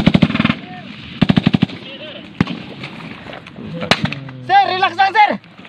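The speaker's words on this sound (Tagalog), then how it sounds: "May pumutok. May sniper na dito." Gunfire in a military combat setting with a sniper present: bursts of rapid automatic shots in clusters, followed by sharp single cracks, all close and loud, with voices shouting in between.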